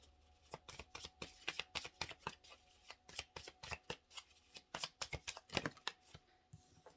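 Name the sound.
tarot cards being shuffled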